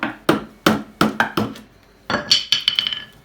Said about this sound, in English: So I'm just going to take a hammer.